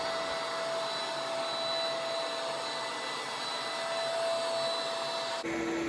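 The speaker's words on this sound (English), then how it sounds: "This time what we're doing is we're just letting it vacuum up everything that it just sprayed down." A Bissell Big Green carpet cleaner vacuums sprayed water back up from carpet, a loud, steady motor whine with constant suction hiss running close and unbroken, then cutting off abruptly near the end.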